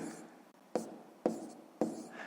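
Pen writing numbers on paper while working a sixth-grade math subtraction exercise, three short scratchy bursts of strokes with pauses between, close and quiet, no talking.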